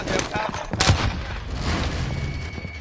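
Rapid video game gunfire, dense bursts of close, loud shots in quick succession with a couple of sharper cracks, over a busy battle background with faint voices.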